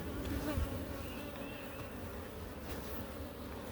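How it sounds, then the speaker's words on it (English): Honeybees swarm around an open beehive with a steady, low hum that fills the whole stretch. A fainter drone runs underneath, and nobody speaks. "I'm afraid I'm always gonna like crush bees, and just wish they would not get in the way"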